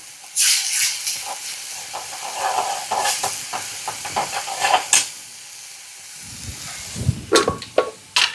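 A pressure cooker whistle, bursts of hissing steam rising and falling for several seconds, followed by a few knocks and clatters near the end.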